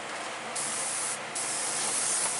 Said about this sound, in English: Oh yeah, my airbrush is really spitting.